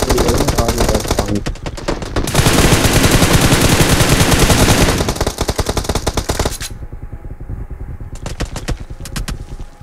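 Rapid automatic gunfire rattles in the battle royale game PUBG, loud and continuous bursts of shots close by, easing into scattered, more distant fire toward the end.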